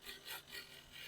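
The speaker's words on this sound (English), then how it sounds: "I'm going to use the scraper to just clean this up just a little bit" Hand scraper drawn across the top of a turned wooden lidded box, giving soft repeated rasping strokes in an even rhythm, close and fairly quiet with no talk.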